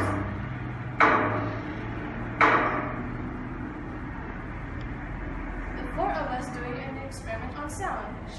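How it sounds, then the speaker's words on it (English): A hammer knocks on the end of a wooden table, giving two sharp, loud strikes early on, followed by fainter, scattered knocks over a steady background hum. "knocked down the hammer on the end of the wooden table"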